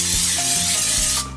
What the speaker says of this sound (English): So, spritz a little bit.